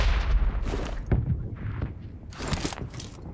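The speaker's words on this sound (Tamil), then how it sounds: "ஏய் பட்டாசு இங்கே வச்சானடா அவன்." Firecrackers go off nearby in a rapid, irregular series of sharp cracks and pops, some louder than others, over a noisy outdoor background.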